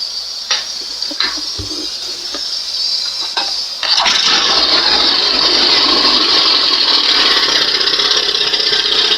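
A few clicks and pulls, then a Johnson 20 outboard boat motor with its hood on starts and runs at a steady, loud, buzzing idle close by.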